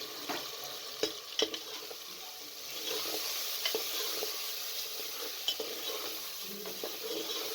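Mutton (gosht) frying with dry spices in a pot, a soft continuous sizzle broken by occasional spoon clinks and scrapes, close but fairly quiet, with no voices.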